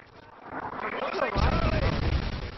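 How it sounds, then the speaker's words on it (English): Predator missile explosion in Call of Duty on the Village map: a deep, loud blast rumbling for over a second after a brief whoosh, with a voice talking through it. "Predator missile inbound."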